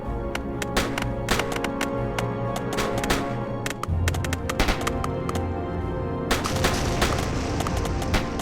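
Musket volleys crackle through a Napoleonic battle reenactment of Quatre Bras, dense overlapping shots and sharp reports over a continuous low rumble, loud and sustained with brief lulls.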